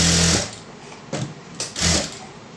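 A sewing machine stitches double-sided colored fabric in three short, loud bursts of rapid mechanical chatter separated by brief pauses, with no talking.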